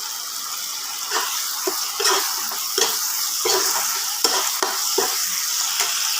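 Spice paste sizzling as it is stir-fried with boiled potatoes for a Bengali koi fish dish, a constant hiss broken by repeated scraping strokes of a spatula against the pan, close and fairly loud.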